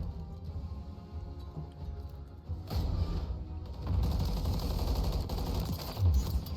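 Call of Duty MW3 gunfire during ranked multiplayer, loud continuous automatic bursts that grow heavier partway through, with a short pause before shooting resumes and clattering impacts mixed in.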